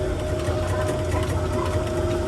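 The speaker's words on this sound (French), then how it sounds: "c'est un vrai tracteur les amis, c'est comme pour de vrai quoi" A tractor ride at the La Récré des 3 Curés amusement park runs with a steady, close mechanical engine hum and rattle, continuous and fairly loud.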